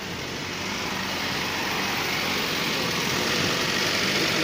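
A Toyota Avanza engine runs steadily just after starting, a close, even idle hum that stays constant.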